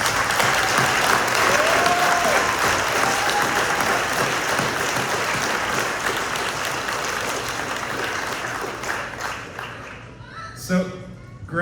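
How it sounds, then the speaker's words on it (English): An audience at a 2025 practical nursing pinning ceremony breaks into loud, sustained applause that fills the hall and then gradually thins out toward the end. "Let's give all of you a round of applause."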